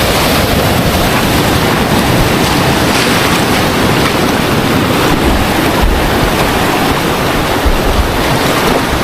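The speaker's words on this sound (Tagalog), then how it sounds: "Oh, sobrang lakas ng alon." Strong ocean waves crash and surge continuously, a loud, dense wall of roaring surf with wind buffeting the microphone throughout and no voices.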